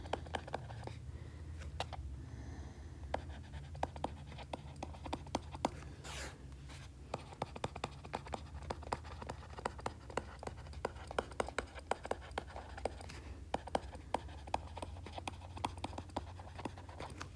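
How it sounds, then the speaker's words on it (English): Pen or pencil scratching on paper while working through a math lesson on boxplots, a long stretch of steady small strokes and taps with no talking. "Lots of writing, I know."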